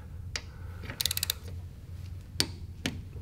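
A torque wrench clicks while tightening head bolts on a Tillotson 263cc big bore engine with a billet head, giving a few sharp, close ratcheting clicks over a low steady hum.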